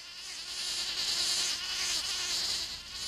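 A cartoon bee buzzes in a steady, continuous high-pitched drone, moderately loud and unbroken throughout, with no other sounds.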